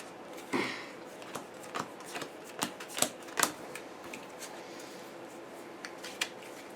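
Game cards for the Aeons End Legacy deck-building game being shuffled and cut on a table, a run of soft riffling and sharp flicking clicks at irregular intervals, close and fairly quiet, with no talk over it.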